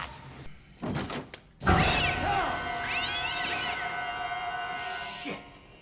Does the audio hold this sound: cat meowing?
yes